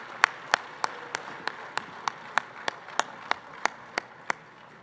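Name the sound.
audience applause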